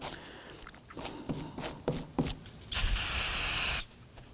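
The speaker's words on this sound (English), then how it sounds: "So I'm going to start by simply spraying this down." Brake cleaner sprayed onto the rear parking brake parts of a 2005-2009 Subaru Legacy: one loud, steady hiss lasting about a second, close up, after some quieter handling noises.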